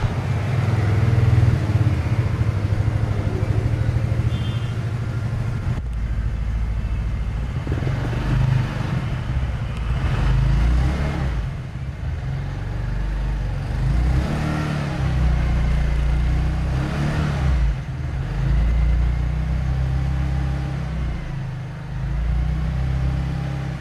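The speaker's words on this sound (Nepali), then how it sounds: "125 को एक्जस्ट साउन्ड सुन्न जाँदैछौँ।" A TVS Ntorq 125 scooter runs up close, its exhaust idling and then revving in several rising bursts.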